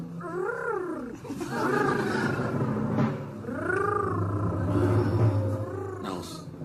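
A person imitates a cat, a throaty rumbling purr mixed with vocal growls and warbling tones, close and fairly loud.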